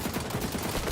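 Rapid AK rifle fire in the shooter game XDefiant, a dense continuous burst of sharp shots packed close together and loud for the whole second.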